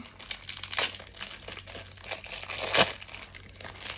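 A PR gift package box being unwrapped, with close, steady crinkling and crumpling of paper or plastic wrapping and a sharper tearing rustle near the end, heard alone with no talk.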